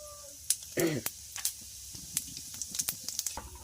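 Whole cumin seeds hit hot mustard oil with a faint crackling sizzle, marked by one brief burst and then scattered sharp pops.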